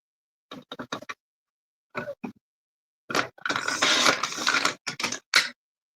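Paper strips being cut with a trimmer for a scrapbook border, heard as short dry slicing and clicking bursts, then a longer sustained cut in the middle and a few quick snips after, close and clear without talk.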